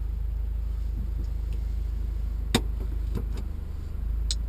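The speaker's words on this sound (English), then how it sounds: "So it's time to go out and test drive it." A 2016 Subaru WRX running a Cobb Access Port stage 1 tune drives along with a steady low engine drone inside the cabin, broken by a few sharp ticks and clicks.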